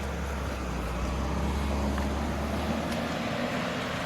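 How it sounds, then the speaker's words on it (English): A car passes on a nearby road beside a disc golf course during an amateur championship round, a steady broadband rumble that swells gently and then eases off, heard alone without voices. "As you see and hear the car going out there"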